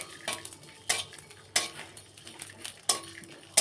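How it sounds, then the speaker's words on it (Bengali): Dried chillies, cumin and black pepper dry-roasted in a pan, stirred with a utensil that scrapes and clatters in repeated sharp strokes roughly every second over a faint background, close by, no speech. "শুকনো খোলায় মরিচ দু চারটে একটু জিরে এই গোলমরিচ জিরে আর শুকনো লঙ্কাটা ভালো করে ভেজে নেব"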